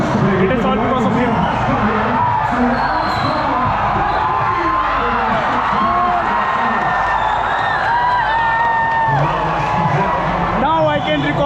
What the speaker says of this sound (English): Now I can record the crazy crowd out here